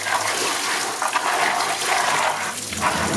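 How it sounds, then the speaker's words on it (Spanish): Water drains and trickles steadily from freshly washed maize held in a basket, a continuous close splashing rush through the whole stretch, with no voices. "Estas canastas son buenas porque le ayudan a uno pues que el agua se vaya rápido"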